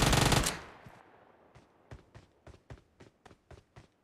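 Video game gunfire in BGMI opens as a loud, dense burst, then fades into a run of about ten sharp, evenly spaced single shots. No voices are heard.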